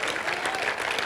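Church congregation applauding loudly, a dense, sustained burst of many hands clapping close by, filling the room without a break.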